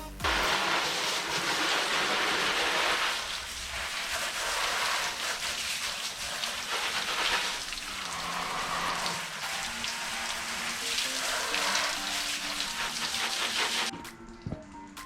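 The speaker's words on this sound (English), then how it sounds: "now I'm going to go ahead and rinse off the bike" Water sprays steadily over a Yamaha TW200 motorcycle during a wash, a loud continuous hiss and patter that shifts slightly in intensity and cuts off near the end.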